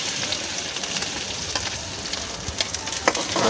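Ginger and garlic sizzle steadily in hot oil at the start of a shrimp chilli, a dense continuous crackle and hiss with scattered sharper pops, close and loud with no talk.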